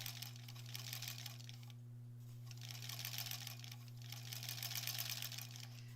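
An embroidery sewing machine stitches an in-the-hoop quilt block in two bursts of fast rhythmic stitching separated by a short pause, over a constant low electrical hum.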